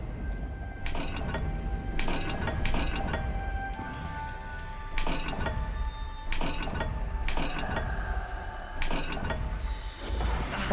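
A dial puzzle mechanism turning in Hogwarts Legacy gives repeated clicking, ratcheting gear sounds in bursts, with soft chimes ringing over a low ambient game drone.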